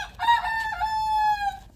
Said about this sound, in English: What's wrong with that rooster?